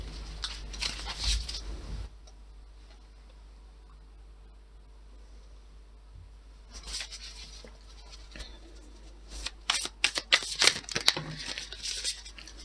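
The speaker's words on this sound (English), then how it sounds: "I'm gonna put the cards back, reshuffle the deck" A deck of tarot-style cards being reshuffled, with bursts of papery riffling and flicking at the start and again near the end, a quiet pause between, close by and without speech.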